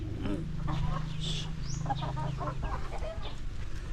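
Pet chickens clucking close by, repeated soft clucks and short calls over a steady low hum, with no talk.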